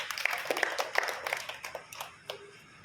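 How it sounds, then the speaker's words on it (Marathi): Audience applause at a book club presentation, a short scattered burst of hand clapping that thins out and fades over a few seconds. "त्यांच्यासाठी जोरदार टाळ्या."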